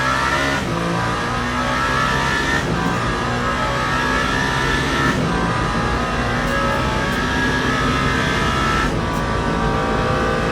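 A Le Mans Ultimate race car engine at full throttle during a 24 Hours of Le Mans race, a loud sustained high-revving roar with a few sharp gear-shift breaks, close and continuous.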